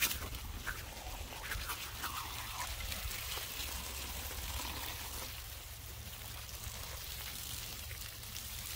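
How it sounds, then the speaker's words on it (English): Water poured onto plant containers filled with potting soil, a soft continuous trickle and splash at low volume with no voices. "So we're gonna really water these things really good."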